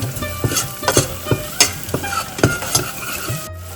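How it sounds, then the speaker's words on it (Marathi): A spoon scrapes and stirs around a pan in quick repeated strokes over a soft sizzle, close up with no voices. "मसाला व्यवस्थित मिक्स करून घ्यायचा आहे खालती चिटकल्याला तो पूर्ण काढून घ्यायचा आहे"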